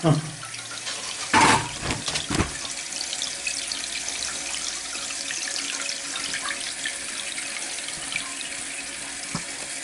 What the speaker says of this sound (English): It's filling up with water.